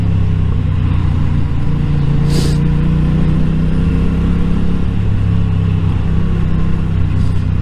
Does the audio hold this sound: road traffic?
yes